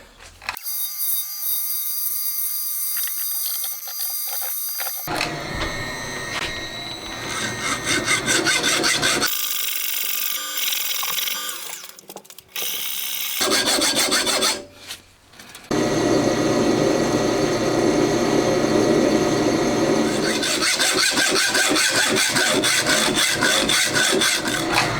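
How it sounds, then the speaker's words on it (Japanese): Metal stock being cut to length for the bearing shaft of a Honda Monkey camshaft, part of a four-cylinder engine build. Loud, continuous cutting and rubbing noise fills the whole stretch, changing in tone between passes with a few brief pauses, and no talking. "じゃあまずはベアリングのシャフトになる部分ですねを切ってきます。"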